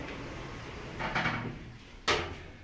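Doors of a second-generation Kone EcoDisc lift in a Horsham shopping centre sliding shut: a soft rolling rumble followed by a sharper thud as they meet, close by against quiet background hum.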